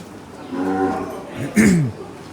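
Cattle at a cattle show in Rajkot give two loud, close moos: a long low call, then a stronger, deeper one. There is no talking.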